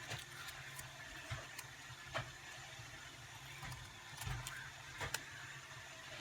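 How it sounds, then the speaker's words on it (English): A steady low mechanical hum with scattered clicks and ratcheting taps runs throughout from a Roomba robot vacuum working nearby. "She's my Roomba vacuum."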